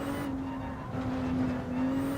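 Race car engine from Gran Turismo 7 racing, a steady loud drone with a sustained tonal whine running throughout, slight surges in level, no speech.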